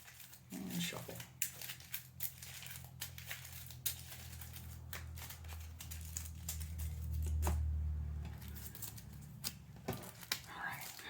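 Quiet crisp riffling and snapping of a deck of cards being shuffled up close for the tabletop game The House of Wisdom, with soft murmured voices and a low hum underneath.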